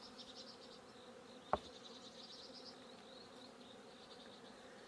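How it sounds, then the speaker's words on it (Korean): Honeybees buzzing steadily around a beehive, a continuous close drone of many insects with one brief sharp tap partway through, no talk. "하얀 소복을 입은 꿀벌들을 모두 벌통 안에 집어넣고 있고"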